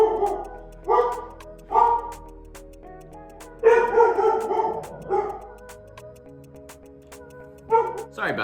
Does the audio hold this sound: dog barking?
yes